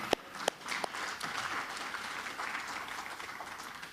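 Audience applause at an awards ceremony honoring businesses, a steady wash of many hands clapping with a few sharp nearby claps at the start, sustained evenly throughout.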